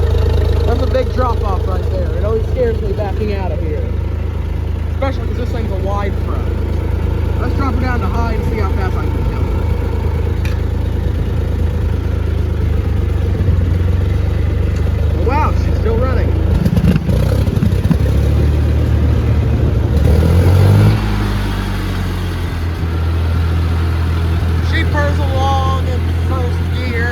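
Wide-frame Massey Ferguson tractor engine running steadily while backing out, a loud close diesel chug with mechanical clatter and a revving shift near the end, under someone speaking.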